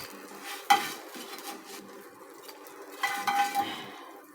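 Pan and metal utensils clatter while fried fish is lifted off a village stove, with a sharp clink early on and a louder cluster of scraping and knocking near the end, over a faint background sizzle.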